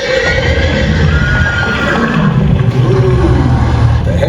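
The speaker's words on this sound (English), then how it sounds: "What kind of horses you got in there?" A loud, drawn-out horse whinny close by, rising and falling over several seconds.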